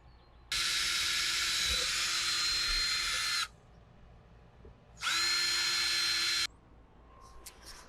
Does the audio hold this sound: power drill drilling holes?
yes